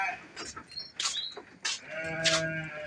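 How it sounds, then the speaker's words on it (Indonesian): Merino sheep bleat several times in close succession, loud and near, their wavering calls overlapping with other animal noises in a livestock pen. "Ini ada domba bagus sekali. Merino."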